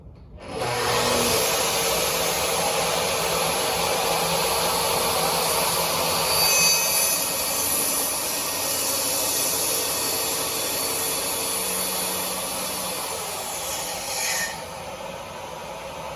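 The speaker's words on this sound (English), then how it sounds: "This is a plunge cutting saw, really nifty." A plunge track saw cuts cabinet wood with a dust collection vacuum hooked up and running, giving a steady loud roar and whine that holds for about fifteen seconds, close and alone.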